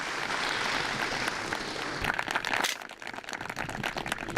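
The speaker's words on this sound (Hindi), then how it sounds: "एक बार तालियां जोर से बजा दीजिए।" Lively studio applause for a farmer honored at a Hindi television quiz show on wheat farming: dense clapping from an audience that swells, then thins into scattered claps.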